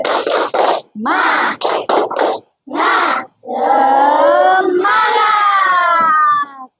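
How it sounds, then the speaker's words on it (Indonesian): A grade 5 class chants in unison during a spirit clap and cheer, with short shouted bursts and clapping followed by a longer sustained group yell, loud and close. "maka marilah kita melakukan tepuk semangat dan yel-yel kelas 5"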